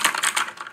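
Gaming keyboard keys typed in a quick burst of about a dozen crisp, clicky strokes, close and fairly loud, with no talking.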